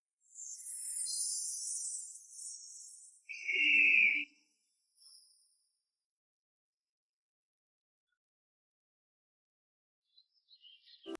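A red bird chirps in a bright, high, twittering burst lasting a couple of seconds, followed by a sharper sweet call. Then comes a long quiet stretch and a few faint chirps at the end, with no speech.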